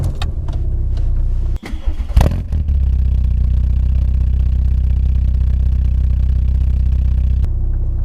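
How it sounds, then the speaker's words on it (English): A Mk2 Volkswagen Golf GTI 8v with a Milltek exhaust cranks with a few sharp clicks and a brief whir on a cold start, then catches and settles into a loud, steady idling rumble that continues to the end. "first bit of noise that I want to record now is the car starting up"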